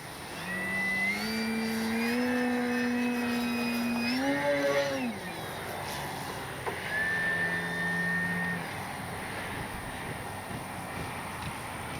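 A FLEX RV-8 60E G2 electric RC airplane whines overhead, its motor pitch climbing, holding steady, then sweeping down before a shorter second pass. The sound is fairly faint against steady outdoor background noise.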